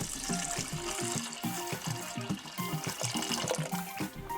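Water runs steadily into a pot of raw shrimp, a continuous close splashing and gurgling flow with no talk over it.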